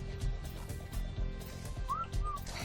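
Two short rising whistle commands sound in quick succession in the video game ARK: Survival Evolved, over a low background hum and murmur.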